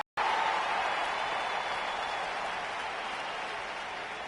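Steady crowd applause and cheering from an arena in the WWE 2K20 wrestling game, loud and continuous after a brief silent start, with no talking.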